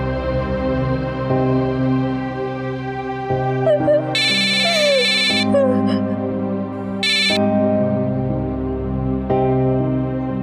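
A mobile phone rings unanswered in a home, its electronic ringtone sounding in bursts over dramatic background music.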